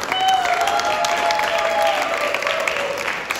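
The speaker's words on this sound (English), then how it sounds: "I would like to encourage you to give a round of applause to the names that we're going to see now." An audience applauds steadily for names being introduced on stage at a live event, a dense, fairly loud wash of clapping with some crowd noise and a faint sustained tone running underneath.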